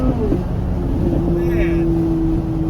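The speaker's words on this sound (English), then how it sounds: "if this car has anything over that 2019 Ford GT, it is the sound of this car" A supercar engine, a different car from the 2019 Ford GT, holds a steady, fairly loud droning note throughout, with a voice speaking over it.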